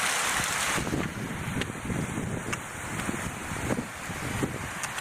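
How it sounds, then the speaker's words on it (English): A small waterfall spilling into a larger creek in a mountain canyon, a steady broadband rush of falling water heard close, with a faint wind-like hiss. "A little waterfall that empties into the bigger creek."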